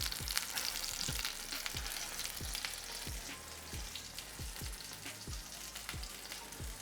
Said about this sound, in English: Great sizzle.